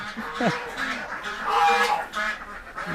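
Ducks at a laying duck farm, with honking and quacking calls mixed into a dense, continuous flock din, fairly close, and a voice briefly under it.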